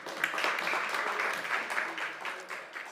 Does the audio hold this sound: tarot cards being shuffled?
no